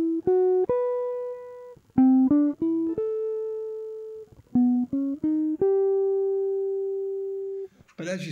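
Jazz guitar picking out a melody as single sustained notes in short phrases, some held long, played cleanly and alone with a brief rustle at the end.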